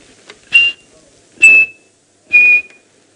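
Three separate whistled notes, each short, bright and clear, spaced about a second apart, imitating the call of a chinspot batis as heard in South Africa.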